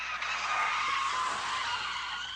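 A car's tires screech in a sustained, harsh skid as it crashes through the front doors of a Taco Bell in Arkansas, a steady, fairly loud squeal with no talking.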